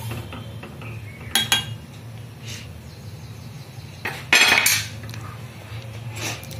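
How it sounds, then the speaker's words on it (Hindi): A spoon stirs sugar in a pan over low heat while a sharbat is being made. Irregular metallic scrapes and clinks come in a few louder bursts over a low background hum. No one speaks. "अभी हमें इसे धीमी आंच पर हिलाते रहना है"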